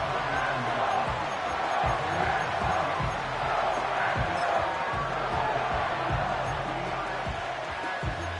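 A football stadium crowd roars at a Green Bay versus New Orleans game as third down approaches, a dense continuous cheer with scattered thumps, steady and loud throughout.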